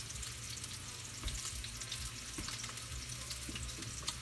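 Meatballs browning in a frying pan give off a steady, fairly faint sizzle with occasional soft pops and clicks, continuous throughout with no talking.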